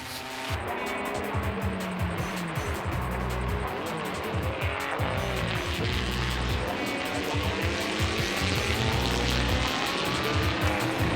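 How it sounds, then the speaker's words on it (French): Loud 1972 Ferrari 365 GTB4 Group 4 rally car at a Tour Auto rally stage, engine roaring hard with shifting revs and some tire squeal, steady and close throughout with no talk. "à bord de la Ferrari 210 de Casalière et Crochet, il s'agit d'une 365 GTB4, groupe 4, 1972"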